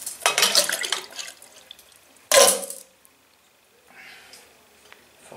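Water splashes in short bursts from an old bidet tap in a hotel bathroom on Tenerife. Two loud gushes are followed by a faint trickle, and nobody speaks.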